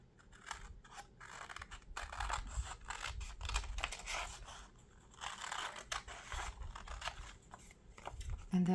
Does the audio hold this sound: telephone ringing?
no